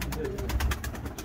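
A pigeon coos softly in a short low murmur, fairly faint, with faint background noise around it.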